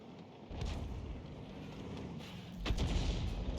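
A distant, muffled boom from an SU-8 self-propelled artillery gun in a tank video game, followed a few seconds later by a second deep rumbling blast over steady low ambience.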